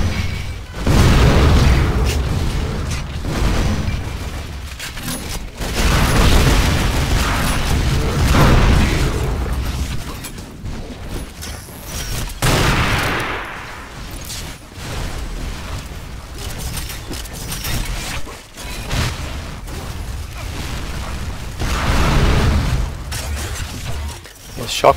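Rocket and grenade explosions with gunfire in the arena shooter Unreal Tournament 4, loud booming blasts and bursts layered densely over continuous game noise across the whole stretch.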